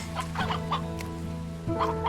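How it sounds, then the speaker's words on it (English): Hens and a rooster cluck in Slime Rancher 2, a game, with several short clucking bursts spread across two seconds and a louder squawk near the end. "The rooster, though. Hen, a hearty chicken bred to be twice as tasty as its cousin on Earth."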